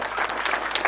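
A round of applause breaks out from the audience at a community talk event, brisk close clapping from many hands, loud and continuous with no voices over it.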